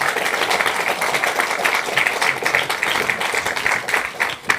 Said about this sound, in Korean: 한번 뜨거운 박수를 부탁드립니다